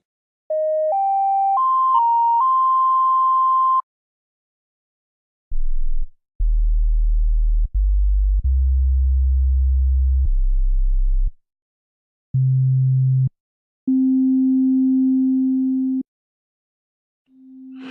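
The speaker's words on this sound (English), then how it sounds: "The sine wave is a quite clear one." An Ommarunn synthesizer playing a clean sine wave: a run of steady pure tones stepping upward, then lower sustained notes separated by short silences, all clear and alone.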